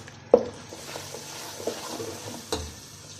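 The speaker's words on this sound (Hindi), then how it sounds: "अब इसमें 2 अदद बड़े साइज़ के प्याज ग्राइंड किए हुए वो डालेंगे और इनको अच्छी सी इनकी बुनाई करेंगे" Ground onions fry in hot oil in a pan for Lahori egg chickpeas, a steady quiet sizzle broken by a few sharp stirring scrapes near the start, middle and end.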